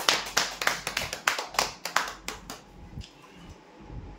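Scattered clapping for lucky draw winners of a geyser prize at a customer prize draw, a dozen or so distinct claps in an uneven burst that fades out after about three seconds.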